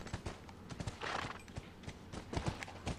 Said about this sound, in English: I'm gonna take the horse here